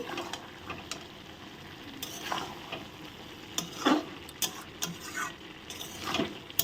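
Ghugni masala being sautéed in a pan, a soft background sizzle broken by repeated scraping and stirring strokes of a spatula against metal, close and irregular with no voices.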